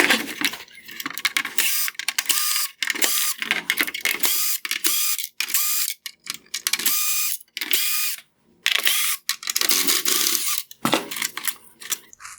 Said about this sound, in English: I will begin by removing all of the Phillips head screws holding the bezels in place.